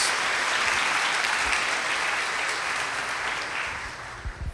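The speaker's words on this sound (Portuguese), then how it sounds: "uma salva de palmas para os nossos tesoureiros, homens corajosos" A church congregation applauds steadily and fairly loudly, the clapping holding for several seconds before starting to thin out at the end.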